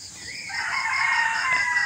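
A young rooster, just grown from a chick, crows in a long, strained call lasting nearly two seconds, close by and fairly loud against faint background noise.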